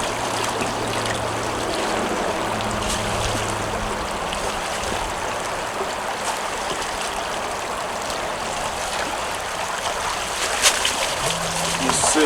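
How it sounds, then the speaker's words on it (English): Creek water streams and trickles steadily outdoors while rocks are sifted from the streambed, with light splashes throughout and a faint low engine drone in the background. "So I'll just come out here in the creek."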